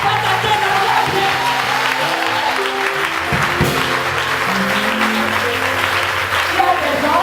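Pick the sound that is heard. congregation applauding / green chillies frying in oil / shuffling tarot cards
congregation applauding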